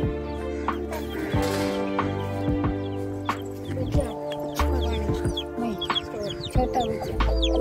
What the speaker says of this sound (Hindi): मुर्गी रोक के रखी हुई है